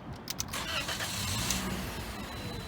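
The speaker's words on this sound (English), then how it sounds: "gonna start the engine with the hood up real quick so that way you can kind of hear how it sounds" A 2017 Toyota Corolla LE starts with the hood up, a brief cranking burst followed by the engine catching and settling into a steady, fairly quiet idle hum heard close by.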